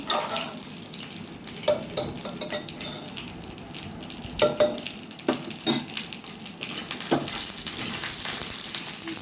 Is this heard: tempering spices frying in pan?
yes